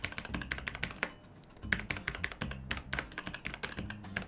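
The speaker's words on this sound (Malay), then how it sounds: "Kejap saya cuba guna numpad." Rapid, crisp key presses on the numpad of a Tecware keyboard, a dense close clatter of clicks at an uneven typing rhythm, heard alone.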